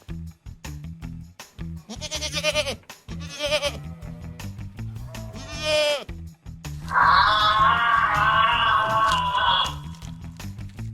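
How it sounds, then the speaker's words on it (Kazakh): A goat bleats in several loud, close, wavering calls, separated by short gaps and ending in one long sustained bleat. "Ешкі."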